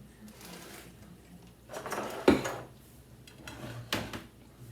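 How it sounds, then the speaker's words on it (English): Dishes and cutlery in a home kitchen clatter while being washed, with a few scattered clinks and one sharper knock amid running-water hiss, fairly close and moderately loud. "gonna get some dishes done"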